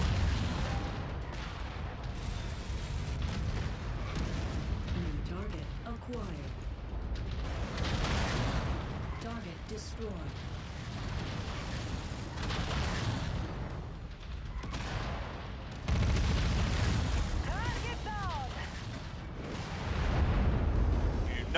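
Mech video game combat with heavy missile salvos and an AC-20 burst-fire autocannon: continuous loud booming volleys and explosions with rumbling low end, dense and layered throughout, with brief speech fragments mixed in.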